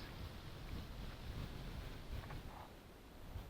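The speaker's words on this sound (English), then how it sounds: "Here we go, thermic gusts." Steady thermal wind gusts rush across the microphone at a paragliding launch in a continuous low roar, with gentle gusts swelling and easing.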